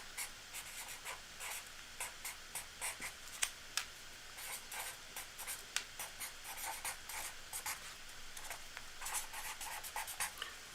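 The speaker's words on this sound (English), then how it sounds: "I'm going to write it in bigger letters" Marker or pen strokes on a board writing out a web link in large letters, a steady series of short scratchy squeaks with brief pauses, close and clear with no talking.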